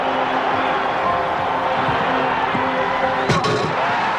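A basketball arena crowd reacts with a sustained roar and murmur while a player lines up a shot from the backcourt, with a sharp burst of noise near the end standing out from the steady wash.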